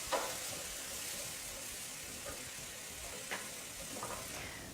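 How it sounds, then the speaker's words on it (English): Tomato paste caramelizing in a pan for an Italian casserole, a steady soft sizzle and fry hiss with a few faint stirring scrapes, close and continuous with no talk. "the tomato paste is really nicely caramelizing"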